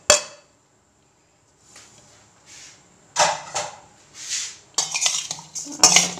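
A mixed vegetable pickle of carrot, cauliflower, turnip, chilli and cut lemon is stirred in a pot, giving irregular clinks and scrapes of a metal spoon, separated by short quiet gaps and growing busier toward the end.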